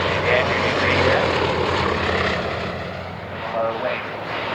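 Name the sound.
aircraft with Bristol Mercury Mark 9 engine flying at air display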